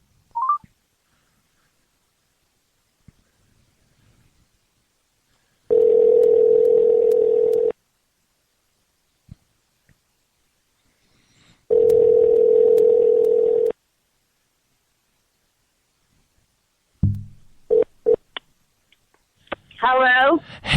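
Telephone dialing tones serve as dialing music before a call, with two long steady ringback tones separated by silence, then short bursts of higher electronic beeps near the end.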